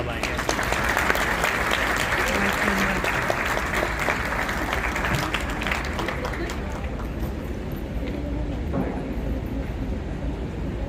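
An audience claps steadily through a White Coat Ceremony at a dental college in Muradnagar, with the sound filling a hall loudly and evenly before easing slightly near the end.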